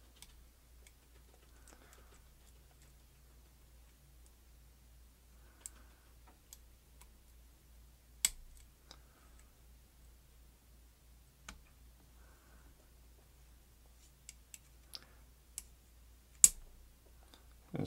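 Sparse, faint metallic clicks from a lock pick working inside a BELL Ballistic 610 bicycle lock, isolated ticks scattered over a quiet background with a few sharper, louder clicks near the end.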